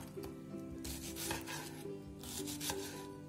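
A knife cuts zucchini into thick quarters on a board: a few close, scraping chops in an irregular rhythm over faint background hum.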